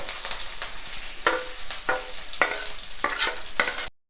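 Onions and curry leaves fry in a pan with a steady sizzle, and a spoon scrapes through them in sharp strokes about every half second. Nobody speaks, and the sound stops abruptly at the end.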